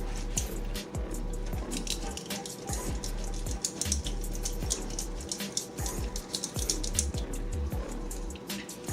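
Cooked pasta drained for chicken alfredo, with water pouring steadily and splashing, plus scattered drips and wet squishes throughout, close and fairly loud with no talking.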